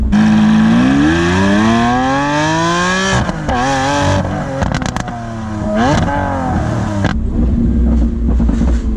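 Lamborghini Aventador S Roadster V12 roaring loudly and close, revving up in rising sweeps with sharp upshifts and crackles, then dropping and climbing again before settling into a lower drone.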